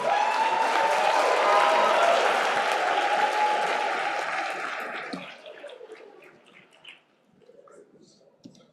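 A crowd at a public forum in Nigeria breaks into loud, sustained applause for a speaker that gradually thins out, leaving scattered claps and a few faint voices.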